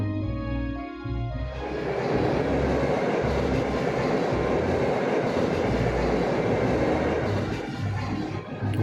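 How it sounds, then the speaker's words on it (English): A train passes in the game Trails of Cold Steel with a loud, steady rolling roar and clattering wheels, building after a brief tonal start and holding, with no voices. "One fancy looking train."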